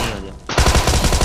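Rapid burst of gunfire in BGMI, with pump shotgun blasts starting abruptly after a quieter stretch, loud and close with repeated punchy thumps.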